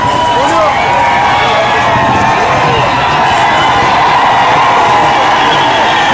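A huge crowd at a JPL 2015 final match cheers and shouts continuously, a loud, dense roar of voices with whoops close by and throughout.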